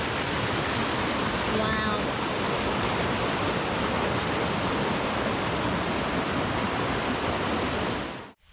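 Water rushes steadily through an old mill's raceway near Gatlinburg, Tennessee, a loud, unbroken broadband roar that holds for about eight seconds before cutting off; a voice briefly exclaims near the start.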